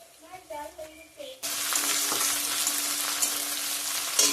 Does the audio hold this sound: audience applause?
no